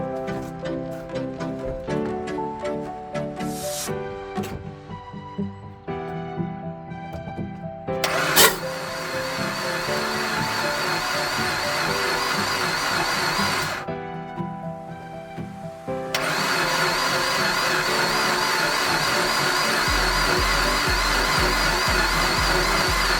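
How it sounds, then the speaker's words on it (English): A car engine cranks after new spark plugs, HT leads and refitted coil packs, turning over steadily for a long stretch without clearly catching, under a layer of background music. "So now we'll give it a crank and see what we get."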